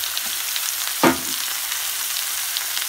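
Zucchini, or courgette, hits a hot pan for a spelt noodle stir fry and sends up one sharp sizzle burst that fades into a steady low frying hiss.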